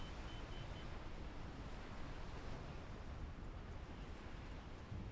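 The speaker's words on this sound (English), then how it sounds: "Yeah, the waves are significant right now." Storm waves on the open ocean in Microsoft Flight Simulator 2024, heard as a steady, dense roar of surf and wind that fills the scene without pause and with no voices over it.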